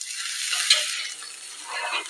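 Ginger, garlic and onion paste frying in hot oil for a banana flower curry, a steady close hiss and sizzle with brief stirring scrapes and bursts of crackle partway through.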